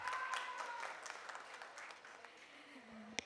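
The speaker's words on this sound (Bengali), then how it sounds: "এর জন্য একটা করো হাততালি হয়ে যাক।" Audience applause at a film event breaks out, a dense wash of clapping that gradually thins, with a faint tone and a sharp knock at the very end.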